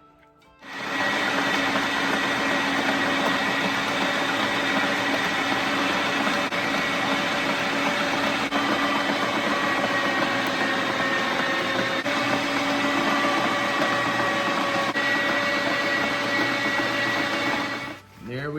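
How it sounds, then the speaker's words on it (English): A meat grinder fitted with a fine die grinds a squirrel and pork mix, its motor whirring at a steady, loud, unbroken drone for most of the time before winding down at the end. "We got the final grind on the squirrel and pork mix."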